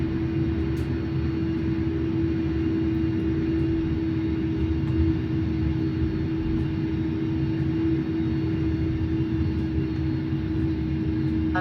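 Airbus A300 jet engines roar steadily during takeoff in a flight simulator, a loud continuous drone with a constant tone and no gaps.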